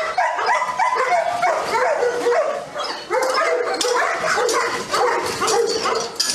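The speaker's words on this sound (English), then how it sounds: "This is gonna be an awesome dog." Dogs at a K9 kennel yard bark, yip and whimper nearly nonstop in quick, excited bursts, fairly close and loud, with a little voice faintly mixed in.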